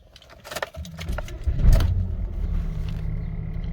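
Rover K-series car engine cranking and starting from cold, a jangle of keys first, then the engine catching and settling into a steady, close idle.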